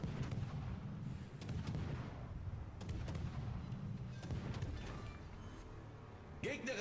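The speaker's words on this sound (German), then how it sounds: "Die schießen doch alle." Tank cannon fire in an online tank battle game, repeated sharp shots over a dense rumbling battle backdrop, with someone talking over it.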